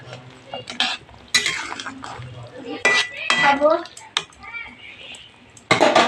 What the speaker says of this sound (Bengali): ঢাকা খুলে দেখে নেব খুব সুন্দর করে বলকটা উঠে এসেছে